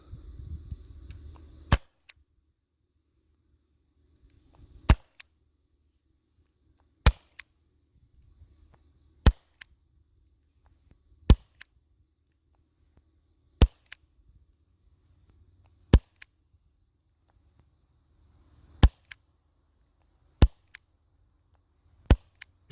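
A Baby Desert Eagle CO2 air pistol firing .2 pellets through a chronograph: about ten sharp, isolated snaps spaced a couple of seconds apart, loud and close, with near silence between shots and a brief low rumble at the start.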